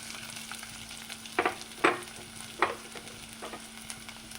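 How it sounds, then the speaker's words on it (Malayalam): Shallots sautéing in oil in a pan for a soybean fry, a gentle continuous sizzle with three or four sharp stirring clinks standing out, close and moderately quiet. "പിന്നെ ഇതിലേക്ക് ഉള്ളി ഇട്ട് കൊടുക്കാം."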